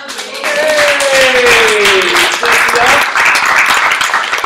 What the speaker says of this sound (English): Clap it up for Cynthia.